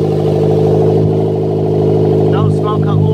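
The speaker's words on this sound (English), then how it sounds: "Just started up again." A turbocharged Toyota MR2 Spyder with a 1ZZ engine, recently treated for oil burning, runs loud and close with a steady droning hum and strong harmonics; a voice is briefly audible near the end.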